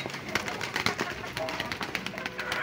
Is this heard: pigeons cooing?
yes